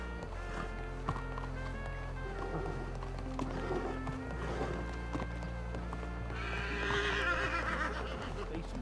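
Horse hooves clopping at a steady run in a Red Dead Redemption 2 roleplay setting, close and continuous under game music and ambience, with a snickering sound near the end.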